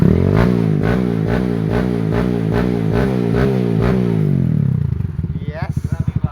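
A motorcycle built for trail riding revs loudly and close up with a series of rhythmic throttle blips, then settles into a fast, popping idle that sputters unevenly at the end.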